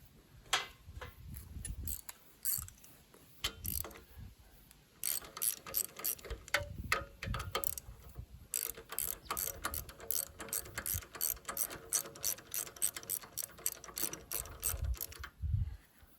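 A socket ratchet wrench clicks rapidly in long, steady bursts while working on a vintage Bolens 1050 garden tractor, with short pauses between runs of clicks. The sound is close and clear, and no one speaks.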